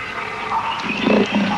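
A tame lion roars in a 1971 comedy film, a rough, growling roar that swells midway and then trails off, moderately loud against a background of film soundtrack.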